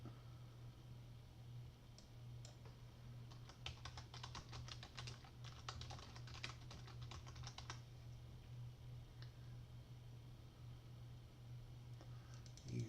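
Quiet typing on a computer keyboard, a quick burst of soft key clicks over a steady low hum, faint and close, with a few scattered taps before and after.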